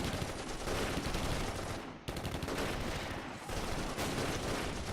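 Sustained machine-gun fire in the Close Combat war game at Belgorod, Kharkov, dense rattling bursts with a brief lull near the middle, loud and continuous.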